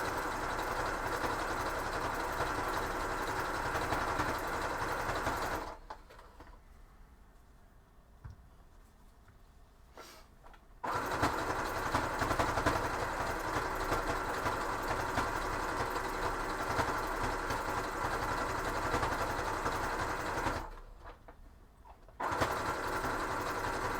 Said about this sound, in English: I am managing to problem solve the sewing without getting pissed